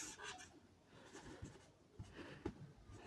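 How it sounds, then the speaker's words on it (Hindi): Handwriting on paper, faint scratchy strokes and light taps of a pen at close range, quiet and irregular with no voices. "यहाँ पर लिख देते हैं"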